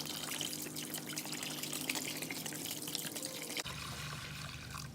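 Vinegar pours from a gallon jug into a container to cover a rusty wrench for restoration, a steady gurgling stream of liquid that runs on, then cuts to a quieter, fainter trickle near the end.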